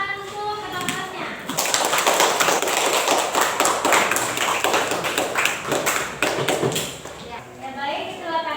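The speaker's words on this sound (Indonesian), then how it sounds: "Berikan tepuk tangan untuk ketua kelasnya." A classroom of students claps for their class leader, a burst of busy, close clapping that swells and fades, with voices talking before and after it.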